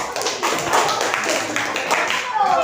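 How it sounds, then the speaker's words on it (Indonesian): Children in a classroom clap their hands together in a dense, continuous patter of many overlapping claps, with voices mixed in. "Oke, tepuk tangan dulu."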